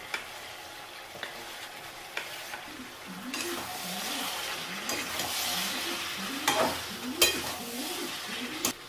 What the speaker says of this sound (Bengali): চিকেনটাকে কিন্তু বেশ খানিকক্ষণ এখন কষে নেবো